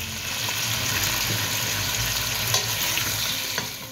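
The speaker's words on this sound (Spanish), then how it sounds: "Lo vamos a dorar el pollo." Chicken pieces browning in a frying pan give a loud, continuous close-up sizzle and crackle, with a few brief stirring knocks and no talking.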